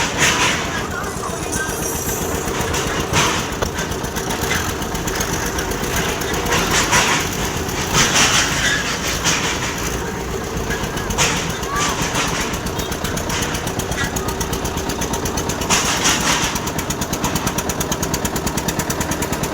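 Tractors hauling trolleys in a line at a religious service gathering, engines chugging in a rough continuous rhythm close by, with people talking over the din.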